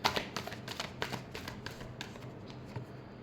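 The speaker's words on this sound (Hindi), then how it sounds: "last shuffle," Tarot cards shuffled by hand during a weekly horoscope reading, a quiet series of soft riffling flutters and taps, close and faint, with no talking over them.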